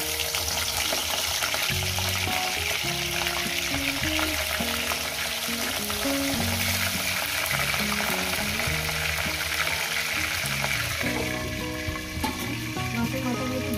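Katla fish heads fry in hot oil with a loud, continuous bubbling sizzle that stays close and even for the whole stretch, with no talking, only faint stirring beneath.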